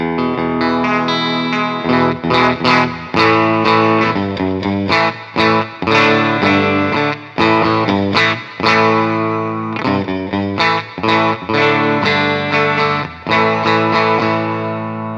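A Siam Music Telecaster-style electric guitar on its bridge pickup, heavily distorted with a chorus-like effect, plays loud chord and riff passages with sharp rhythmic stops and restarts, no voice over it.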